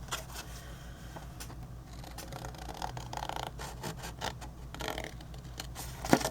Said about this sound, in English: cut up on this score line to meet up with this one.